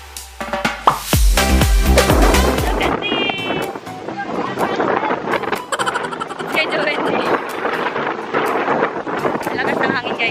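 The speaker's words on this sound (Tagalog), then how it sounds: "Lakas ng hangin, guys." Strong wind buffeting the microphone outdoors in Singapore, a loud, continuous roar with broadband gusts and clicks, a person talking over it.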